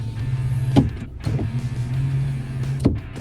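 A Toyota Tacoma's power rear window motor gives a steady, close electric whine. It runs twice, each run bracketed by soft clunks as the glass starts and stops.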